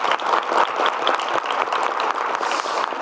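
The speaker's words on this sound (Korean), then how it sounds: "네, 우리 지사님 박수 한번 부탁드립니다." A town hall audience in South Gyeongnam gives a governor a round of applause, a thick, continuous burst of many hands clapping that fills the room for about three seconds.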